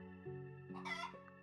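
Chickens clucking and a rooster-like call from the game Trails in the Sky the 3rd, a short burst of fowl sounds rising over a steady droning music bed, moderately loud.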